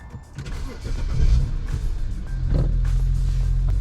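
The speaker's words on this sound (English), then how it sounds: "then your engine is primed and you could turn it on easily" A BMW N54 engine in a 3-series cranks briefly, then fires and settles into a steady, rumbling idle heard up close after a valve cover gasket replacement.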